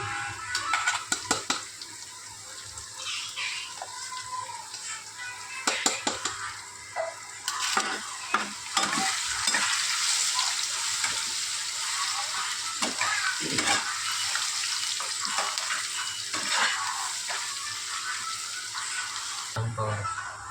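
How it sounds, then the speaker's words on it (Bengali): Garlic frying in a pan, a steady loud sizzle with repeated scraping stirs and clinks throughout, close up, with a voice talking now and then over it. "এখন দিয়ে দিচ্ছে রসুন।"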